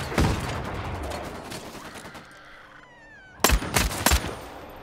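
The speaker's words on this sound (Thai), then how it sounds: "ข้างหน้ามีคนยิงกันครับ" Gunfire rings out in a vampire battle royale video game: a shot opens, then after a quieter lull a rapid volley of loud, close shots bursts out.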